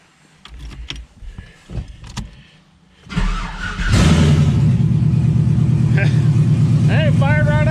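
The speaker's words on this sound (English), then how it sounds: "let's see if this thing starts." An LS-swapped Camaro cranks and fires into a loud, steady idle up close, after a few seconds of softer clunks and shop noise; people talk briefly before the engine catches.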